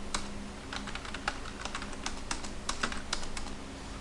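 Rapid, uneven clicking of computer keyboard keys as an address is typed into Tally ERP 9 accounting software, quiet and close, with no talking.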